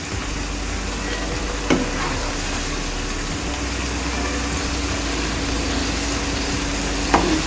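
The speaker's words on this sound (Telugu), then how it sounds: "ఇవి ఒక సైడ్ వేగాయి కదా, తిప్పేసుకుందాం వీటిని. రెండు సైడ్లు మంచిగా వేగాలి." Cauliflower pieces fry in a pan for a pepper fry over a medium flame, giving a steady, even sizzle with a couple of brief clinks as they are turned, and no talking.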